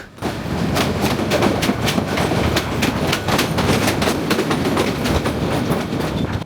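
The Parjotak Express train from Dhaka to Cox's Bazar, Bangladesh, running steadily past Tongi with a continuous rumble and rapid rhythmic clicking of wheels over rail joints, loud and close throughout.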